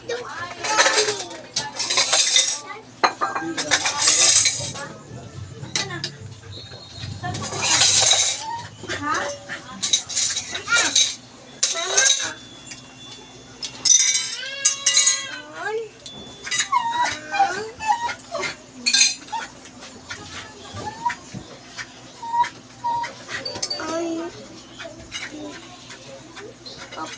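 Plates and cutlery clink and clatter in a home kitchen, scattered through the scene amid frequent talking voices, with a dog whimpering and birds chirping in the background.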